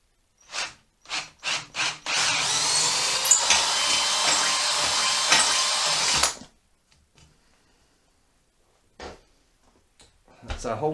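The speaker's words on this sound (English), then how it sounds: "the first thing we need to do is drill our hole out" A drill whirs loudly and steadily for about four seconds after a few short bursts, boring a hole in metal on a Honda CBR400 motorcycle, then stops; sparse clicks and handling noises follow.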